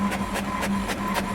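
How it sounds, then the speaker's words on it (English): A compact portable printer, bought in New Zealand and carried in a campervan, prints documents: a steady mechanical whir with a regular series of louder rhythmic feed strokes, close and clear, with no talking. "So we bought this portable printer back in New Zealand with this in mind."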